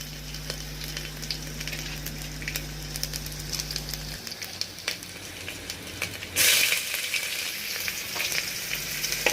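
Onions frying in hot oil for khichdi, a steady crackling sizzle with scattered pops that swells into a louder hiss partway through, no voices.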